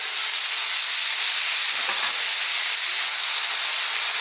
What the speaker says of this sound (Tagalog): Stir lang natin.